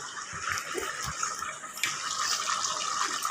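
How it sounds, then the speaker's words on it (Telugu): Water pours and splashes over rice being washed in a pot, a continuous running, gurgling stream with a few small knocks near the start and no talking. "బియ్యం కడిగేసుకొని ఎసురు పోసుకోండి."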